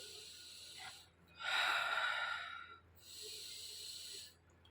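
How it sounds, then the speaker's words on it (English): A person takes a deep breath, with a long, loud airy inhale followed by a slower exhale, heard close and alone over quiet background hum. "And finally, take a deep breath"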